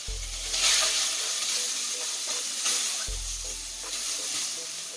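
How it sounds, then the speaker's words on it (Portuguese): Sausage sizzles in hot olive oil in a pan, a steady close frying hiss with crackling spatter, while low rumbling thuds sound twice underneath. "eu deposito a linguiça e vou deixá-la fritando"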